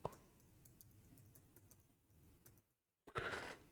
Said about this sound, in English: So I'm just typing in the password.